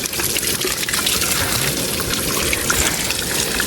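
Spring water flows steadily for drinking on a hillside path, a continuous close gushing and splashing with no pauses and no voices over it.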